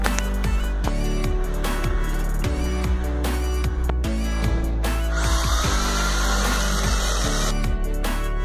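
A power drill bores into ceramic wall tile, its motor whining loudly with repeated pitch changes as the bit spins up and bites, then shifts to a harsher grinding tone in the latter half.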